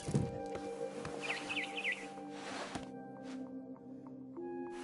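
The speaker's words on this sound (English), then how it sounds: "Then I heard chirping outside my window. It was a barn swallow going back to her nest." Brief high chirping calls of a barn swallow in a video game, a quick run of three or four notes, fairly faint over a steady background of tones and hum.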